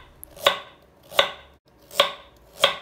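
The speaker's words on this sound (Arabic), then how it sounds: "عندي هلا حبة جزر رح اقطعها بالنص، بعدين كل نص لربع" A knife chops a carrot on a board in four crisp, evenly spaced cuts, each a sharp close knock with a short ring. No voices.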